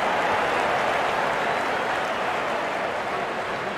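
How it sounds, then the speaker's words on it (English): Steady crowd applause and cheering from a stadium audience celebrating a batter's fifty in the Real Cricket 24 video game, a dense, even wash of clapping that holds loud throughout. "Wonderful 50, and the crowd applauds."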